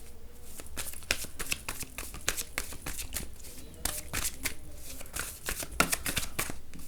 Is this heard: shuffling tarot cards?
yes